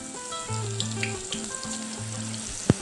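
Battered green chillies deep-frying in hot oil, a steady close bubbling sizzle with faint crackles and one brief sharp pop near the end, with no voices.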